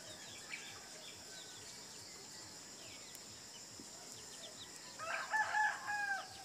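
Free-range chickens forage on grass amid a steady outdoor hum, with a few short clucks rising near the end, soft and somewhat distant.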